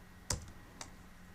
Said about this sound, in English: I can activate that by typing mid